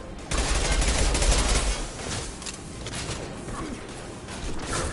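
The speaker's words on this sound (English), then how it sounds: "Firing a high-impact shot." Dense gunfire rattles through a Mass Effect 2 battle against Krogan, with a heavy opening high-impact shot and sustained weapon fire behind faint voices.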